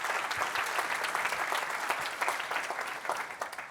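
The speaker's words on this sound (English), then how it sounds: "Round of applause for Aaron." Steady applause from an audience at a business talk after a guest speaker finishes, dense even clapping throughout with no voices over it, fairly quiet and distant.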